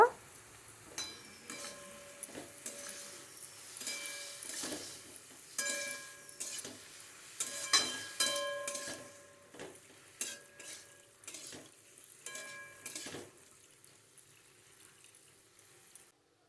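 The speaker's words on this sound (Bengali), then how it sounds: "আদা বাটা দিয়ে একটু আমি ভালো করে নাড়াচাড়া করে নেব" A spatula scrapes and clinks through fish curry spices and ginger paste in a pan, making repeated rhythmic strokes over a soft sizzle. The stirring sits close and fairly loud, with no one talking.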